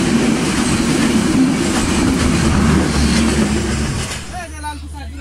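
A passenger train at a station, a loud continuous rumble with clattering wheels that dominates throughout, then fades somewhat near the end as a voice begins speaking.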